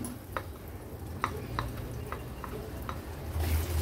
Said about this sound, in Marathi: एक 2 ते 3 मिनिटासाठी आहे ना हे केळं आपल्याला छान रव्यामध्ये तुपासोबतच असं परतून घ्यायचंय